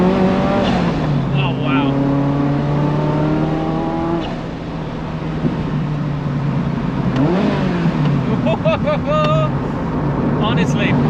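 Ferrari F40 turbocharged engine revving and pulling hard up through the gears, the pitch rising in long sweeps, then a short lift and a second climb, loud and close from inside the car, with a brief exclamation over it.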